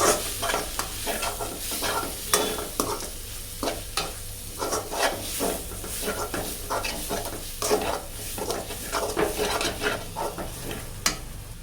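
Tomato masala being stirred in a pan for a potato chicken curry, with steady sizzling and repeated scraping strokes of a spoon against the pan, close and continuous without talk.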